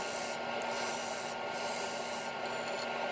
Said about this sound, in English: Here I'm truing it up a little bit with the bowl gouge